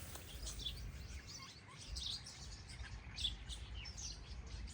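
Sparrows chirp outdoors in a village yard near a curry leaf tree, with faint, scattered tweets over a steady low outdoor rumble.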